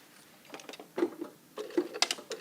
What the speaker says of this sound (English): And I start sewing from this corner here.